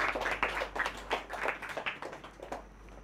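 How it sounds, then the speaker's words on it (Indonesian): Students in a music class clap for themselves after playing a C major chord, a short burst of scattered hand claps from a small group that trails off. "Tepuk tangan untuk diri anda sendiri."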